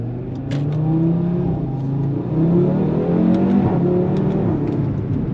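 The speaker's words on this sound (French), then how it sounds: "Après l'Audi RS3, vraiment un véhicule qui marche très fort" An Audi RS3 8V2 with 400 hp, quattro drive and an RS exhaust accelerates hard on a road, its engine note climbing through several gears in a loud, close rising drone with brief pops between shifts.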